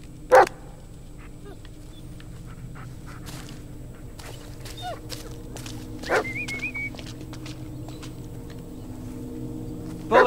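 A dog gives a few sharp, loud barks spaced several seconds apart, with quiet shuffling and footsteps between them.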